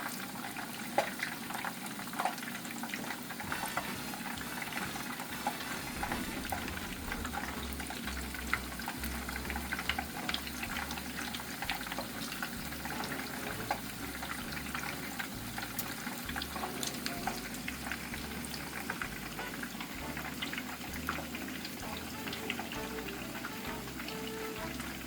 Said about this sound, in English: We're going to let them fry until they get nice and brown.